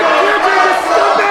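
Wrestling crowd at a District pro wrestling show jeering loudly in a steady, dense wash of voices with a few rising shouts.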